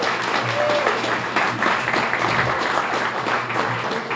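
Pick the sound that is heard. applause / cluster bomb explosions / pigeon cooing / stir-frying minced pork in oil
applause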